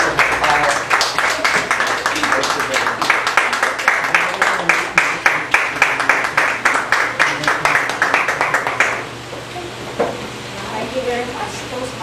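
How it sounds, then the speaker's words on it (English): Audience applause at a Toastmasters club meeting, many hands clapping in a steady dense burst for about nine seconds, then fading to scattered claps and quiet room murmur. "We applaud you."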